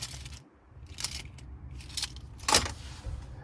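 Key fob for a 2022 Mercedes-Benz EQB 300 4MATIC jangling in brief metallic bursts, several short clinks and rattles close by, with one brighter jingle near the end, no talking.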